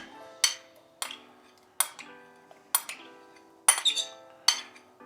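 A spoon repeatedly clinks against a champagne glass while spooning in strawberries, about six bright ringing taps at uneven intervals, close and clear with no talking.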